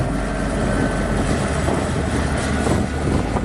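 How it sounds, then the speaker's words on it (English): Helicopter flying over a quiet beach near Santa Monica in Los Angeles, a steady distant rotor and engine drone running throughout at moderate level with no voices. "Well, other than that helicopter,"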